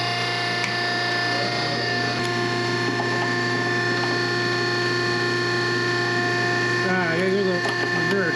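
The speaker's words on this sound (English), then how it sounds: "So what I'm going to do is loosen up one of these two fittings and hopefully see some coolant squirting out." A coolant fitting is loosened with a tool on a Coolmate 20 chiller for a Miller Syncrowave 300 TIG welder, giving close, repeated ratcheting clicks over the chiller's steady mechanical hum and whine.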